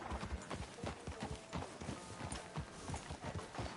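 Horse hooves in a PS4 video game clop along in a fast, steady rhythm on a hard surface, loud and continuous with no talk over them.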